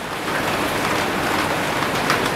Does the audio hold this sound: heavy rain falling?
yes